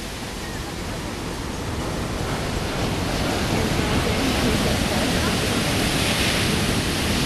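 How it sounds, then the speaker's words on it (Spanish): Ocean waves on a beach make a dense, steady wash of surf noise that swells slightly louder midway and carries on without a break. "Y pues aquí está la playa"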